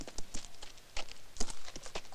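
Horse hooves clip-clop in a quick, uneven rhythm in a western film scene, a run of sharp, close hoof strikes over faint background noise.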